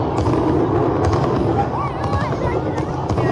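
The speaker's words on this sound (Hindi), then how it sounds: "पटाखों का साउंड अलग से चलाया जा रहा है।" Dense, continuous crackling and popping of firecrackers at a Vijayadashami effigy burning fills the whole stretch, loud and close, with a crowd murmuring underneath.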